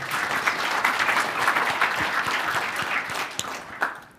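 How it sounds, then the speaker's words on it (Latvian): Conference audience applauding the panel discussion participants at an energy conference in a hall: dense, even clapping that holds steady at a moderate level, with a few distinct claps near the end as it begins to thin. "Aplausi kungiem."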